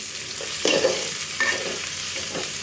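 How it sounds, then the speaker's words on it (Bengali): Onions and green chilies sizzle in hot oil for a prawn dish while a utensil stirs them, with a few louder scraping bursts over the steady frying hiss. "পেঁয়াজ মরিচটা তেলে কিছুক্ষণ ভেজে নেব"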